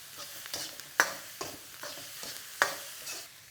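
A spatula stirs pineapple fried rice in a hot pan, giving a soft sizzle with a few sharp scraping strokes and clicks, close and fairly quiet.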